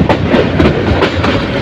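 A Bolaka Commuter train runs between Mymensingh and Dhaka with steady rumbling and a regular clickety-clack of wheels over rail joints, loud and close throughout.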